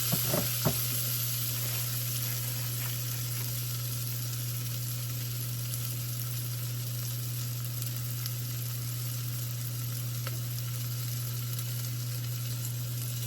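Shallots sweat in a pan with a constant, even sizzle that holds steady throughout, a few light clicks of stirring at the start, heard close with no talking.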